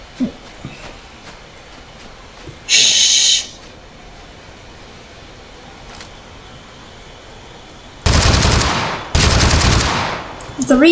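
Bursts of gunfire in the battle game TABG, with one short sharp burst early and two long loud volleys near the end, standing out over quiet background noise.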